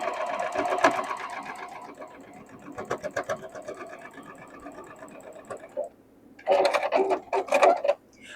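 A sewing machine stitches a quilt block seam in bursts of rapid mechanical whirring, stopping and restarting, close and fairly loud, with a brief pause before a final quick run.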